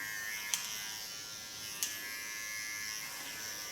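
Electric hair clippers buzz steadily while trimming fine, fragile hair on a woman over fifty, a constant high whine held close, broken by two brief sharp ticks.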